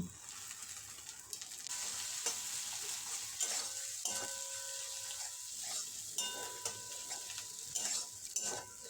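Fish roe fritters mixed with chopped coriander fry in hot oil, giving a steady close sizzle broken by occasional clicks and scrapes of a utensil, with no voices.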